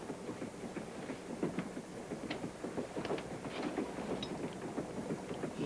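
Steady rumbling rattle of a passenger train in motion with rhythmic clatter and a broad hiss, continuous and fairly loud throughout.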